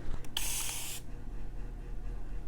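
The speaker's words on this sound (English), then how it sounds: "the mist on this is amazing" A fine mist spray bottle gives one loud, hissing burst of about two-thirds of a second near the start, then cuts off to a quiet low hum.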